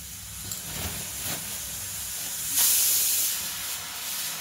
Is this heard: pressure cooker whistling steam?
yes